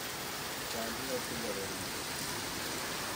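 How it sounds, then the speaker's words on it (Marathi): Heavy rain pouring outside a hotel near Calangute Beach in Goa, a dense, steady hiss of rainfall filling the whole stretch, with faint voices murmuring underneath. "बघू शकता जाम पाऊस पडतो, म्हणजे जामच जोरात पडतो"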